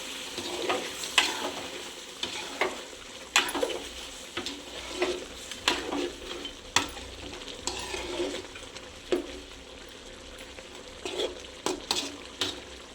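Village-style chicken curry sizzles and fries in a pan while a utensil stirs and scrapes it in repeated close bursts over a continuous frying hiss.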